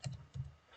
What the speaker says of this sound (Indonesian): Misalnya di sini saya akan ketik function